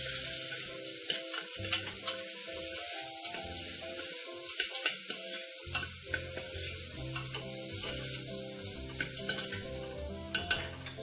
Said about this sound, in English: the frozen mixed vegetables, 1 teaspoon of haldi, turmeric powder, and let's mix them